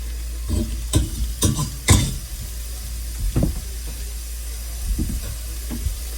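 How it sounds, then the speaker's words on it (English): A utensil stirs potatoes frying in a pan, giving a few scraping and clattering strokes in irregular bursts over a constant low sizzle and hum. "Make sure you're stirring your potatoes as they melt through."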